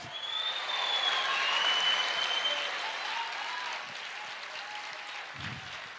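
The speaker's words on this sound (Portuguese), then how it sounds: "Aplauda o Senhor!" A church congregation claps in praise during a worship service. The applause is even and sustained throughout, moderately distant and soft, with a faint tonal whistle drifting above it.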